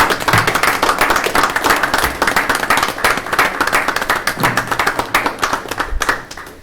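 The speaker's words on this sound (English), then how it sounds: "I'd like everybody to stand and give a great county employee a round of applause." A standing round of applause at a county fiscal court meeting for a county employee, sharp distinct claps from a modest crowd, close and loud, thinning out toward the end.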